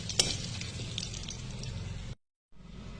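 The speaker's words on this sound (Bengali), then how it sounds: "আলু ভাজা তেলের মধ্যে ফোড়ন দিয়ে দিলাম গোটা গরম মশলা, শুকনো লঙ্কা, তেজপাতা আর গোটা জিরে" Whole garam masala, dry red chillies, bay leaves and cumin seeds sizzling in hot oil used for frying potatoes, a loud steady crackling fry, close, briefly cutting out before resuming.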